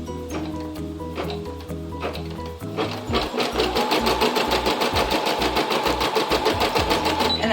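A sewing machine stitching a flat-bottom embroidered cosmetic bag: a few quiet handling clicks first, then the motor starts and runs in a loud, close, rapid mechanical whir with a fast even needle rhythm to the end.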